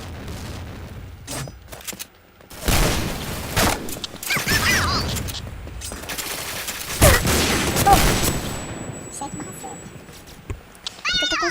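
Bursts of gunfire from a video game crackle in several short volleys, mixed with game effects and speech running through most of the stretch.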